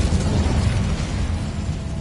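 The Incendio fire spell cast in Hogwarts Legacy, a loud, steady roaring whoosh of flame with a dense rumbling low end that holds without a break.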